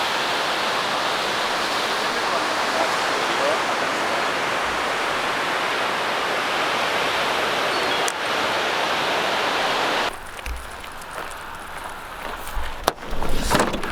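River water rushing loudly and steadily during a dangerous crossing, a dense close roar filling most of the stretch before dropping to quieter splashing and rustle near the end.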